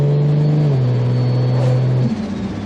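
An automatic Toyota Supra with increased turbo boost accelerates hard from inside the cabin, a loud steady engine drone climbing in pitch, then a brief dip and change of tone as it shifts.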